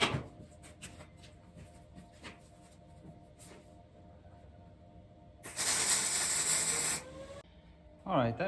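Arc welding on a steel fifth-wheel mount for a DIY welding cart, heard as a loud crackling hiss in one burst of about a second and a half, followed by another starting burst, with quieter clicks and shop noise before.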